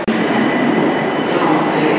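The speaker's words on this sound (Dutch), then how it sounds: "Dat is niet mijn trein." A train rumbles steadily through Antwerp station, a dense broadband roar at constant loudness with faint rail clatter and no talk.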